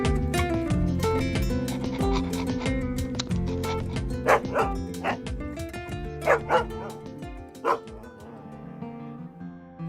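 Young dogs yip and bark excitedly in quick, overlapping bursts, with whimpers mixed in, close and lively throughout.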